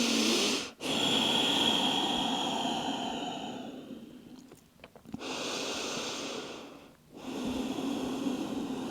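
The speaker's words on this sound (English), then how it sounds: "A couple of nice deep inhales and exhales here." Slow, deep breaths drawn in and pushed out through the nose during a morning yoga stretch, with several long airy inhales and exhales broken by brief pauses, close and steady with no talking.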